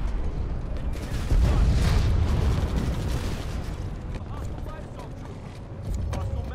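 A shield generator blown up at the RX13 Eisa Tech Plant in the Planetside 2 shooter: a loud, rumbling burst of explosive noise swells early, then fades into ongoing battle din and mechanical creaks.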